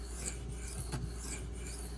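A knife blade scrapes in steady, soft rasping strokes across an Arkansas sharpening stone, heard close and alone, with each pass blending into a continuous gritty rub.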